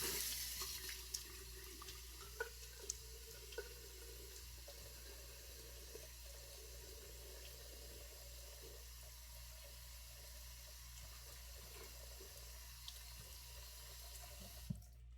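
A bathroom tap runs into a sink for rinsing off after a straight-razor shave, a faint, steady stream of water heard at a distance, with a few small clinks.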